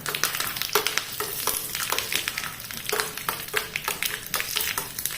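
Hot oil sizzles and crackles while a utensil clatters rapidly against the pan in quick, uneven stirring strokes, as mustard seeds, chili and chopped neem leaves fry in a tempering.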